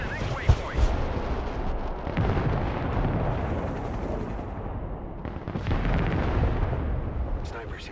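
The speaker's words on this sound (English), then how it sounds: "Rocket artillery ready, sir." HIMARS rocket artillery striking in the Broken Arrow war game: a sharp blast followed by a long rumbling roar of impacts and debris that swells and fades, with voices talking over it.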